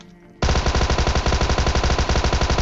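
Rapid automatic fire from a VSS rifle in a video game, bursting in loud and close after a quiet moment and hammering on in a steady, dense rhythm to the end.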